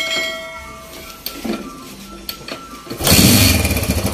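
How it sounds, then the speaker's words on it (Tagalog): After a few clicks and clunks, a motorcycle engine with a noisy, loose timing chain starts up and runs loud and close, with a rough, rattling idle. "Palitan natin ng timing chain kasi medyo maingay yung kanyang makina."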